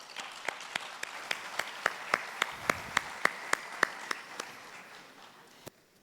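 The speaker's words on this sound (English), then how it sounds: "Cote d'Ivoire deserves a round of applause for that." At the ACSC 2019 cyber security conference, an audience gives a round of applause, heard as a sparse, fairly close run of crisp, evenly spaced claps that thins out, with one last clap near the end.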